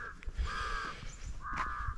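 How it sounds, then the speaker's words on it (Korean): Crows caw repeatedly along a forest path in Bhutan during a morning walk, two drawn-out calls standing out clearly over a steady outdoor background with no talking. "까마귀들이 되게 많습니다."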